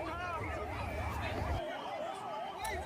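An ambulance siren wails in a steady rising-and-falling cycle as the vehicle arrives from Borjhar airport in Assam, heard at moderate distance over crowd noise and low rumble.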